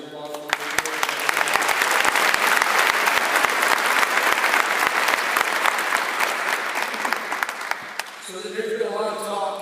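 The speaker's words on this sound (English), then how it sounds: "let's give the mayor and the city council a round of applause." An audience at a sheriff's advisory annual meeting claps steadily for the mayor and city council. The applause is sustained and even for about eight seconds, then fades as a voice begins.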